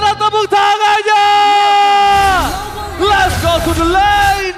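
A live crowd at an MPL esports match roars with long, loud, sustained cheers and whoops, rising and falling in waves.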